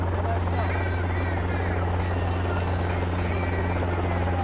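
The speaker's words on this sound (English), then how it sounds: "Chopper has arrived at Cashman." A helicopter hovers loud and steady over an outdoor soccer stadium in Las Vegas during a halftime cash drop, its rotor drone continuous throughout with crowd and voices mixed underneath.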